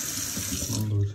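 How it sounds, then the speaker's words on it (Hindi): Water runs from a tap into a container, a steady close hiss with a brief rising fill tone near the end, heard briefly on a hot day in the UAE. "पानी भर लेते हैं"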